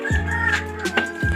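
A chicken kept in a backyard pen gives a few harmonic, nasal clucks and calls at close range, with steady background hum and no talking.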